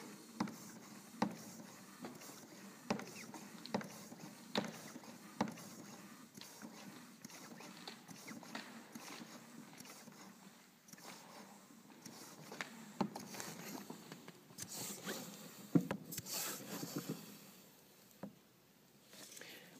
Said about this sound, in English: For this practice launch, I'm going to pump it up to 30.